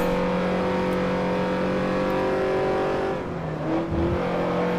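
A race car engine in Forza Motorsport 4 drones steadily at high revs with strong harmonic whine, shifting pitch near the end as it accelerates in third gear; loud and close, no talking.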